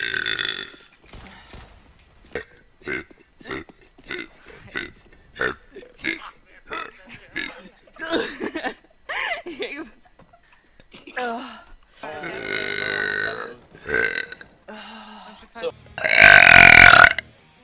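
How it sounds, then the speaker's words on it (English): A streamer's repeated burps, a long series of short close belches in a steady rhythm, then longer, louder drawn-out eructations near the end, mixed with some talking. "Sorry, I burped."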